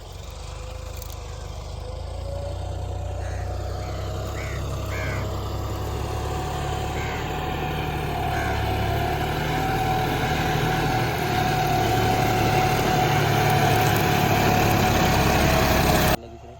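A John Deere 5210 tractor engine runs steadily in a farm field, its loud, even diesel drone continuing unbroken for the whole stretch until it cuts off at the end.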